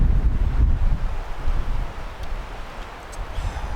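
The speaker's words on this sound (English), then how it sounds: "It's super windy again today." Strong wind buffets the microphone with a steady low rumble and roar, loudest at first, with no voices.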